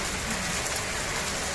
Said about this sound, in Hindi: मूसलाधार बारिश, बहुत तेज़ बारिश आ रही है जी।